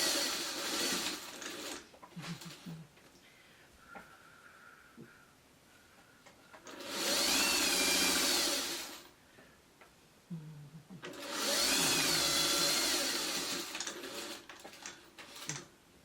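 A sewing machine stitches quilt blocks in two sustained bursts of steady whirring, each a few seconds long, with quieter handling noises and pauses between them.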